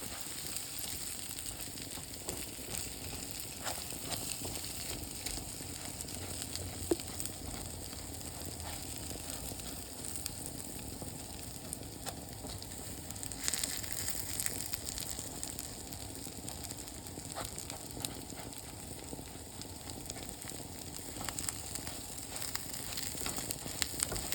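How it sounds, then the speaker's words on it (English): Rice and pasta browning in a pan for homemade Rice-A-Roni, a quiet continuous sizzle and crackle with occasional small pops, steady and alone throughout. "just brown it up a little bit. It should take about 2 to 3 minutes to brown it"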